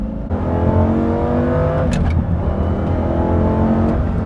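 A manual-clutch car accelerates from a standstill, its engine a loud, close, steady drone that rises slightly in pitch, with a brief higher whine partway through.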